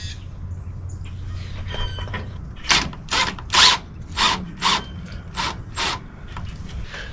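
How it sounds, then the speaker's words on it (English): A screw being driven into a pilot hole while mounting a submersible LED reverse light, heard as a run of about eight short, evenly spaced ratcheting clicks from close by, with no talk. "I will put the screw in."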